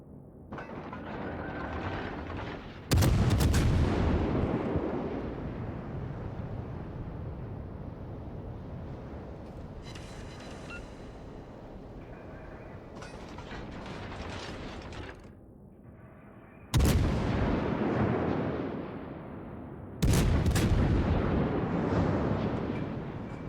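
Naval guns firing in World of Warships, a loud broadband blast at about three seconds that decays into a long rumbling roar, followed by mechanical clanks and two more heavy booming salvos near the end, with no voices.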